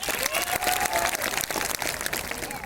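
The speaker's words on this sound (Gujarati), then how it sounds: "એકવાર બહેનો માટે જોરદાર તાળી થઈ જાય" A large audience at a tribal community gathering applauds for the women, dense steady clapping from many hands with a faint cheer mixed in, filling the whole moment without pause.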